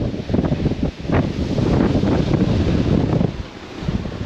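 Strong wind buffets the microphone on a sheer sea cliff, roaring in uneven gusts with low rumbling rushes and brief lulls.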